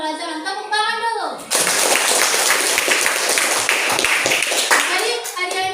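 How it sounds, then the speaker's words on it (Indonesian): A class of young pupils at an Islamic elementary school bursts into clapping, a dense, loud burst of many hands that runs steadily for several seconds after an adult voice, with children's voices mixed in. "Tepuk tangan dulu."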